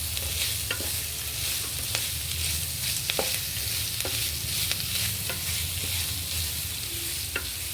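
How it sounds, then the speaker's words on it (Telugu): Carrot pieces fry in a pan for a millet and moringa-leaf kichidi, with a steady background sizzle under scattered clicks and scrapes of a spoon stirring, fairly close and without speech. "క్యారెట్ ముక్కలు కూడా బాగా ఫ్రై చేసుకోవాలి."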